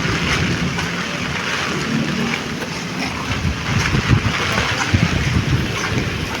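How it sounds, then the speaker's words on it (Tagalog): Heavy rain pours down at the Manila Esplanade near the Lawton Post Office, a dense, loud, continuous roar with wind buffeting and low rumbling throughout, and no voices. "Grabe ang lakas ng ulan mga bayan"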